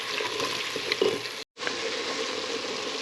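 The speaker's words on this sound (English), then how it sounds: "we're going to saute it down with some butter" Vidalia onion sautéing in melted butter, a steady close sizzle and crackle that cuts out briefly and then resumes.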